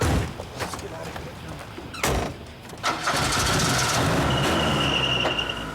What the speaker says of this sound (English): They got in their car and they left